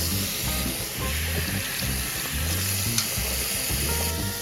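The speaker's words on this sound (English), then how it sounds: "I'm just gonna quickly just rinse the soap off of them, put them in." Tap water runs steadily as soapy LEGO bricks are rinsed, a continuous rushing spray with light clattering of the plastic pieces, close and fairly loud throughout.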